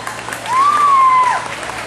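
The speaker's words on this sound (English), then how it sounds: "Let's give a huge round of applause to Harveen" Short burst of audience applause after a live singing performance, a brief swell of clapping that rises and fades within two seconds, fairly loud and close.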